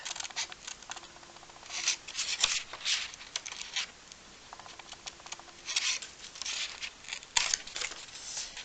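Scissors cutting cardboard for a card box, crisp close-up snips coming in quick clustered bursts, with short pauses between two rounds of cutting.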